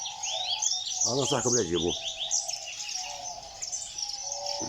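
Caged birds in a large aviary sing and chirp continuously, with high twittering song throughout and a short burst of harsher calls near the middle, while a person speaks over them.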